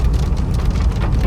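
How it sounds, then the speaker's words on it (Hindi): Heavy monsoon rain pounds steadily on a car during flooding, a dense, loud hiss close by with no pauses and no talking. "नॉन स्टॉप वाइपर चल रहा है तो इसलिए आवाज़ का पता चल रहा होगा कितनी तेजी से बारिश हो रही है"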